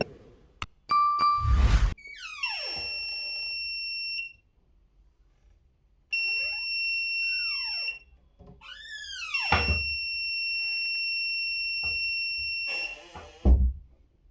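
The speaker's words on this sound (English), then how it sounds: "every time the gate opens or closed, the beep starts" An ESP32-driven alarm buzzer triggered by a blocked IR sensor gate, sounding long sustained high-pitched tones in several separate bursts, loud and close, mixed with clicks and thuds of handling.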